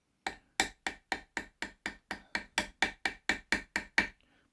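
Small hammer peening a metal pivot pin to dome its head, about fourteen crisp, evenly spaced taps at a steady rhythm, close and clear with no talking.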